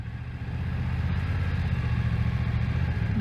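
A 2020 BMW F900XR motorcycle engine runs at low revs, a steady low rumble close by with a faint clattery texture, a touch hesitant as if near stalling.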